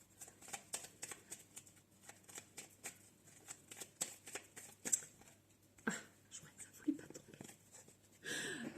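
A deck of oracle cards is shuffled for a reading, giving a quiet, close series of soft riffling and flapping card sounds with a brief rustle at the end.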